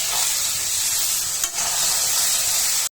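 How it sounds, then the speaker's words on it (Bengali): Hilsa fish head pieces fry with onions in hot oil, giving a continuous close sizzle with a brief stirring scrape in the middle before the sound cuts off. "ইলিশ মাছের কামসাগুলো দিয়ে দিব, কাঁচা গন্ধটা যেন না থাকে। পেঁয়াজের সাথে ভেজে নেব।"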